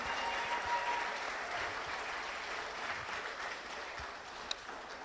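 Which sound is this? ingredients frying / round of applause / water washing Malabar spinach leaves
round of applause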